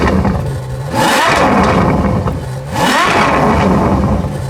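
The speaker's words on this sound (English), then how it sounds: "it would be criminal to do a review of the F12 and not show off the exhaust note" Ferrari F12 Berlinetta exhaust roaring through two strong revs, each rising sharply to a loud howl and falling back to a throaty idle in between, heard close.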